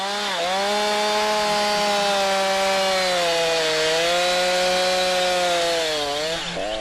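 Husqvarna chainsaw cutting into wood while a tree is felled, a loud, steady high-revving whine held throughout with slight pitch dips as the bar bites, alone without talk.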